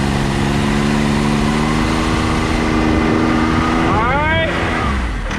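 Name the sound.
Can-Am X3 engine revved to 3,500 rpm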